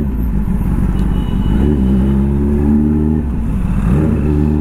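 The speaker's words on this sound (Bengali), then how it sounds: "guys look at the traffic, প্রচুর এখন জ্যাম এই জায়গাটায়" Dense road traffic in a jam, with car and motorbike engines idling and revving close by in a continuous loud rumble, the revs rising and falling throughout.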